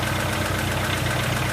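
A car engine idles steadily with an irregular knocking noise in it, fitted with an oil pressure gauge, a continuous near and loud mechanical rumble with a fine repetitive ticking pattern and no talk.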